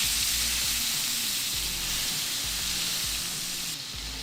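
Pheasant searing in hot oil in a pan, seasoned with Smoky Bayou, gives a loud, steady sizzle and hiss with crackling pops throughout, close up and with no talking.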